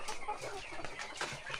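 Chickens clucking on a farm in the Philippines, a few soft, irregular clucks and bird calls at low level over a busy, noisy background.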